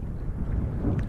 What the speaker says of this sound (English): It's really fucking windy.